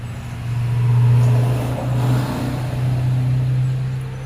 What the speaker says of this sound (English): Got trucks going through all the time here.